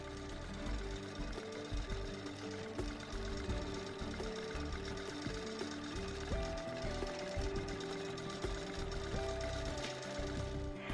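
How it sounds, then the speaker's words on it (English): A longarm quilting machine, an HQ Sixteen or HQ24 Fusion type, stitching a plumb line across a quilt, its rapid mechanical stitching chatter steady and continuous up close throughout. "let the machine stitch a plumb line across the quilt"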